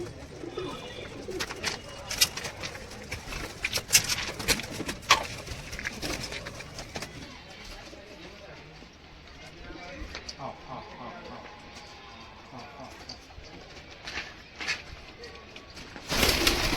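Soft pigeon cooing mixed with rustling, handling noises and scattered clicks, with a person speaking in the background at times.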